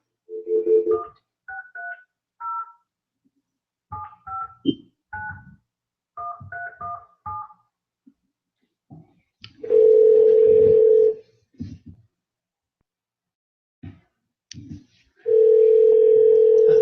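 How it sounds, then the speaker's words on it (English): A telephone number is dialed on a keypad, giving a series of short, distinct DTMF beeps in uneven groups. Two long, steady tones follow, separated by quiet gaps with brief voices. "Okay, I'm calling you right now."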